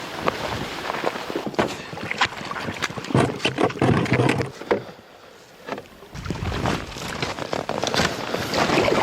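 A canoe is paddled on an Eastern Ontario lake into a stiff headwind, with rough wind buffeting and rhythmic water splashes from the strokes and a brief lull partway through.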